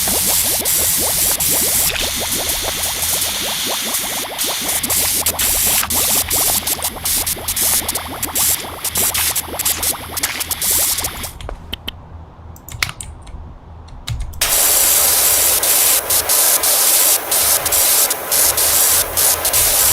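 A pressure washer soap nozzle sprays in Power Wash Simulator, a loud continuous hiss with rapid crackly texture, briefly dropping away and then resuming at full force, with no talking.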